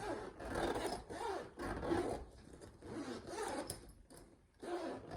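A zipper on a cross-stitch storage bag is pulled open and shut several times, giving close, dry rasping strokes in a steady back-and-forth rhythm with brief pauses between pulls.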